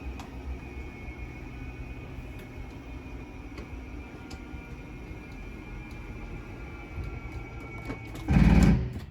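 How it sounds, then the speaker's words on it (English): A steady mechanical motor hum from the slide-out motors of a 2013 Lacrosse 301RLS RV drones along, then a loud burst of rapid clicking near the end as the motors reach their stall. "you'll just hear some clicks from the motors letting you know they've reached their stall"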